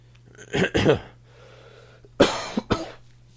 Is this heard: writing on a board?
no